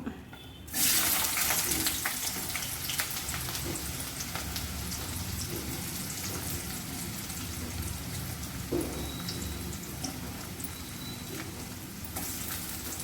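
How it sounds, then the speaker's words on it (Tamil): Chopped onions fry in hot oil in a pan for a mushroom pepper masala, giving a steady, dense hiss and sizzle that runs without a break. No one speaks. "வெங்காயம் பொரிஞ்சிட்ருக்கு"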